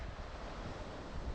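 Wind blows steadily at Mahe beach, a continuous broadband rush with buffeting against the microphone and a surf-like roar, loud and unbroken, with no voices.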